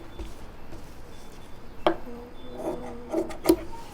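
Scissors cut through cloth while a collar is being shaped, giving a few soft, scattered rasping snips with quiet pauses between them and no talking.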